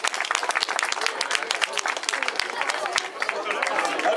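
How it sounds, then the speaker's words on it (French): A crowd applauds the podium at a youth cyclo-cross race, with dense, close, crackling claps that keep going throughout, mixed with chatter and an announcer's voice. "on peut applaudir ce podium"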